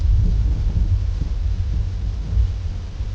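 Deep, rolling thunder rumbles continuously with a hiss of wind and rain, heavy and low throughout.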